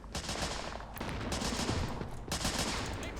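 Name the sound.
Japanese gunner shooting in the video game Men of War: Assault Squad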